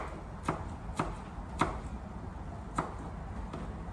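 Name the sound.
knife chopping garlic into tiny pieces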